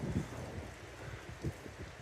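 Low, blustery wind buffets the microphone outdoors on a windy day during a dog walk, a rumbling roar with a couple of sharper gusts, fairly faint overall.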